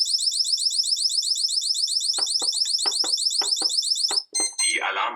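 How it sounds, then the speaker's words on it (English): An intrusion alarm from a wireless alarm system going off, a loud rapid pulsing high-pitched beep repeating steadily, with a voice announcement speaking over it before the tone stops. "An alarm was triggered, thus we have to manually reset the wireless alarm system."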